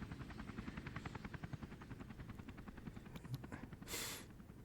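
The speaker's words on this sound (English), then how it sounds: "Seeing that helicopter take off like that" Military helicopter lifting off in the Army Men RTS strategy game, a steady rhythmic rotor chop thudding throughout at moderate level, with a brief hiss of noise near the end.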